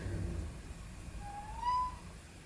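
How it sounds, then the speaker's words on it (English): A pet cat gives a single faint, rising meow at mid distance, heard over a low room hum with no talking. "Oh, I hear my cat."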